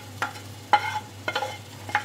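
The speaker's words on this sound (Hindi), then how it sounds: "घी समेत हम इसको दूध में डाल देंगे" Fried dry fruits in ghee being scraped out of a pan into milk for sheer khurma: four short, separate scraping strokes spaced about half a second apart, close and fairly loud, with no talking.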